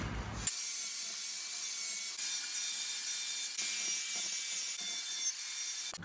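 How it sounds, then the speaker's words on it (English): A 30-year-old lawnmower blade being sharpened, heard as a steady, raspy scraping grind in repeated strokes with short breaks between passes, close up and without voices. "Let's quickly sharpen the blade."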